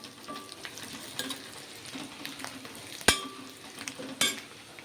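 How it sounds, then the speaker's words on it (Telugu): Onions and curry leaves fry in oil with a soft, steady sizzle and occasional light stirring, close but fairly quiet, broken by two sharp metallic clacks of a utensil against the pan. "కరేపాకు కూడా నూనెలో వేగుతుంది బాగా ఇదిగోండి నూనె ఉల్లిగడ్డలు బాగా వేగినాయండి నూనెలో"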